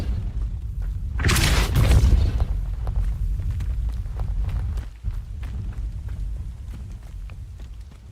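A Depulso force spell cast in Hogwarts Legacy releases a loud, broad whooshing boom lasting about a second, then a steady low rumble of game ambience with scattered light footstep-like taps.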